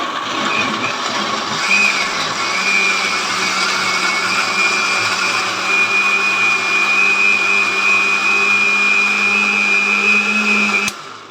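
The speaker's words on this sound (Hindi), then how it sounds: "अब हम अपना अदरक लहसुन जो है उसको हम ग्राइंड कर लेंगे" An electric grinder runs steadily at high speed, a loud close whirring drone of ginger and garlic being ground, stopping abruptly at the end.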